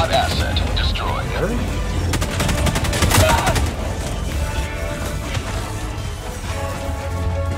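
Rapid gunfire from a non-explosive 15-round magazine weapon in a sci-fi video game, a loud fusillade of repeated shots with a dense burst in the middle, mixed over game ambience and voices.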